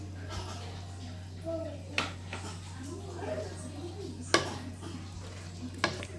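A spoon stirs chicken adobo stew thickened with cornstarch in a pot, producing soft scraping and occasional light clinks against the pot, fairly quiet and close, over a steady low hum.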